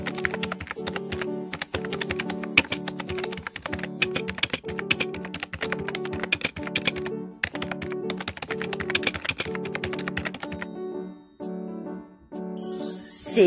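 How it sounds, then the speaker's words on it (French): Rapid, steady clicking of fingers typing on a computer keyboard, close up, with a few brief pauses near the end. "C'est le bruit d'une personne tapant au clavier d'ordinateur."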